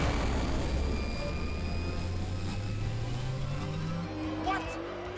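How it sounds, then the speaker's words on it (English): A flying base spaceship's thrusters at liftoff: a loud, continuous roaring rumble with a slowly rising engine tone, steady throughout. "Thrusters are stable. It's working. Rangers, we have liftoff."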